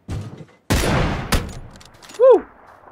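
A few bursts of gunfire in PUBG crack out in quick succession, followed by a short rising electronic tone, with brief quiet gaps between sounds.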